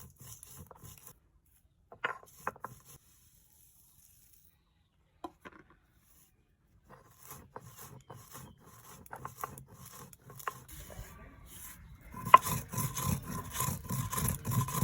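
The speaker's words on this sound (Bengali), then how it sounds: "আমি শিলনোড়াতেও বেটে নিচ্ছি।" Spices for mango oil are ground by hand on a stone slab with a muller: sparse, scattered scraping strokes and gaps give way to steady, rhythmic rubbing that grows louder near the end.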